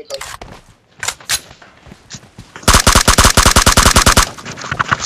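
AKM rifle fire in a mobile shooter game: a few scattered single shots, then a long rapid automatic burst of sharp, loud cracks in an even rhythm, with a couple of trailing shots afterward.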